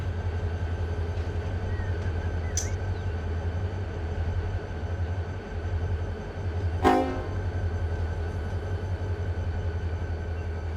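A freight train in Run 8 Train Simulator rolls by with a steady, heavy low rumble and a droning horn tone. Two sharp bursts cut through, a short one and then a louder, longer one near the end.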